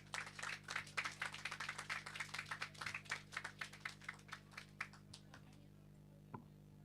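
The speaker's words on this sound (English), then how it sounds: "Give her a round of applause." A small gathering claps for a primary school pupil, a sparse scattering of individual hand claps over a steady background hum, thinning out and stopping.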